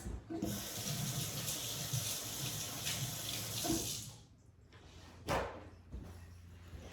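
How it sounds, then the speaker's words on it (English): Hands rinsed under a running kitchen tap: a steady close rush of water for about four seconds, then it cuts off, followed by a single thump and faint clatter. "let me rinse my hands"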